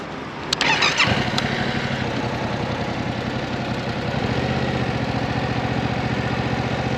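A motorcycle at a riding school starts up with a sharp bang and then settles into a steady, slow-paced engine putter while it is ridden at low speed for a radar speed test.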